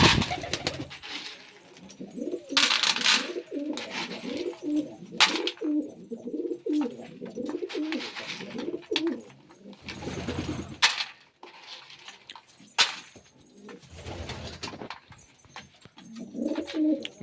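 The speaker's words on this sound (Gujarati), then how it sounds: "બધા કબૂતર દાણા ખાવા આવી ગયા." Flock of pigeons cooing repeatedly while gathering to eat scattered grain, a steady rhythmic low burbling chorus close by, broken by sharper clinking and flapping bursts.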